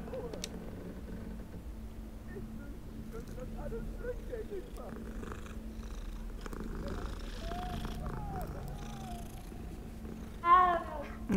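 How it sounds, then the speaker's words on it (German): A cat purrs softly in the video game Hogwarts Legacy, a low continuous rumble under ambient background sound, with faint chirpy meow-like calls and a brief louder burst near the end. "Hallo, Katze."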